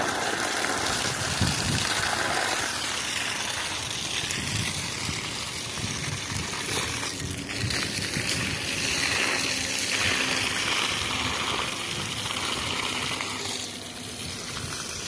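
Water gushing steadily from a hose or tap while a plant is watered at home, a continuous splashing flow with small shifts in intensity and no talk.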